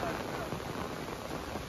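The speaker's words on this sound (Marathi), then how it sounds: "खूप जोराचा पाऊस आणि त्यात व्हिडिओ चालू आपली." Heavy rain pours in a forest as a steady, dense hiss with no breaks, close and enveloping.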